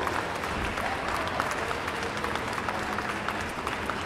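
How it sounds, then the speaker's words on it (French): A convention crowd welcoming a guest of honour breaks into dense, loud, sustained applause, a thick wall of many hands clapping at once with no break. "on applaudit bien fort"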